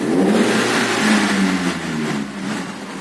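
A car engine fitted with a gas conversion system revs hard at full throttle, a loud steady roar holding high revs throughout the short stretch, close by and with no talking.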